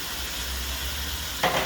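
Shrimp go into a simmering karila curry in a pan, a steady broad sizzle and hiss with a brief louder splash of frying near the end.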